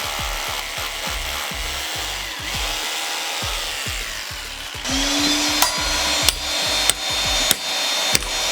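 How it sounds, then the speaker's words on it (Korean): Drill boring holes into a floor for 20mm wedge anchors, a steady rhythmic hammering chatter from the close, loud tool, with sharper periodic knocks later as the bit bites deeper. "고정 작업을 진행할 때는 드릴을 사용해 바닥에 먼저 구멍을 내주고 20mm 웨지 앙카를 사용해 고정 작업을 진행해줍니다."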